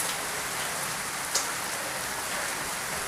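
Steady rain pattering on a surface, a dense continuous hiss of drops with one slightly louder tap partway through, no voices.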